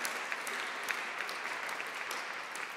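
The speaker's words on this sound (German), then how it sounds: "Applaus genau für die Arbeitsgruppen." Soft, steady applause from an audience at a seventh-anniversary celebration, many hands clapping together at a distance, even and fairly faint throughout.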